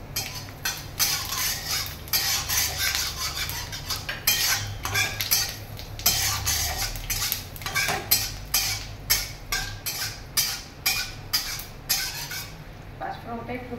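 Panch phoron spices with dried red chilli fry in oil for Bengali jhinge aloo posto as a metal spoon scrapes and clinks against the pan in a quick, steady rhythm, close and loud throughout.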